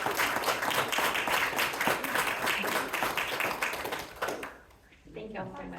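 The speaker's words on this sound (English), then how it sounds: "we'll give him a round of applause one more time" A council meeting audience gives sustained applause at a public hearing, thick and steady for several seconds before it fades and a voice begins speaking.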